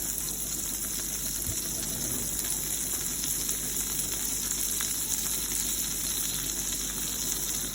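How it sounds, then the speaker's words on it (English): Butter melting in a pan at the start of a homemade cheese sauce, a steady bright sizzle with crackling pops, close and continuous without any talking. "it's starting off with melting some butter"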